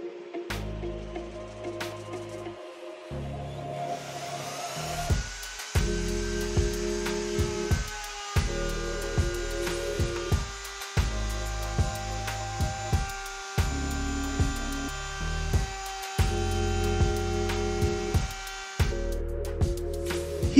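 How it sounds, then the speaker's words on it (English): A bearing-guided router bit in a power router shapes the edge of a wood or MDF board on a work table, in repeated loud passes with brief pauses between cuts. "the shape we made on the edge of the board using this bearing router bit"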